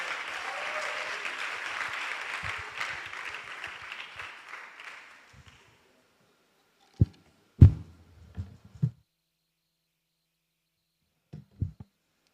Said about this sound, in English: Please, a round of applause for Dr. Sanda Ajibola.